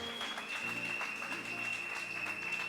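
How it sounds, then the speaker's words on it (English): A church congregation claps together in praise during a lunch-hour service, a steady, dense wash of many hands filling the room without pause, with a faint voice over it. "And everybody will lift our hands and give Jesus a clap of praise."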